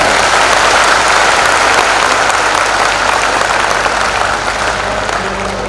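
Sustained audience applause at a Hindi Ram Katha religious discourse, dense and close, holding steady before gradually thinning toward the end with no voices over it.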